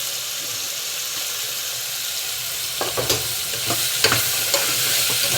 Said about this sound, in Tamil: இந்த காய் நல்லா ஒரு 5 நிமிஷம் நல்லா வணங்கட்டும்